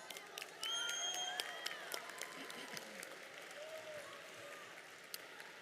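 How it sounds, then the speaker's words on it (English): Audience applause fills a graduation convocation hall at Abbotsford Senior Secondary, a steady dense clapping that swells after the first half-second and carries on evenly, heard from a distance with faint voices and a few whoops mixed in. "Big round of applause."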